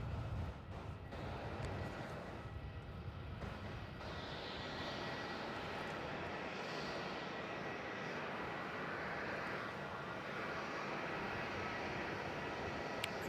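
A Jetstar airliner arrives from Hobart at Melbourne Airport at night, a steady broad jet roar that holds fairly even and moderately loud for the whole stretch, with no voices.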